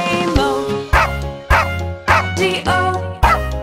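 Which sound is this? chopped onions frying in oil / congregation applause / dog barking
dog barking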